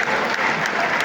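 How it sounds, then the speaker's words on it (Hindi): A burst of loud crowd applause at a Jat community parliament gathering in Meerut, dense continuous clapping from many hands filling the whole moment. "जोरदार ताली बजा के स्वागत और अभिनंदन करें"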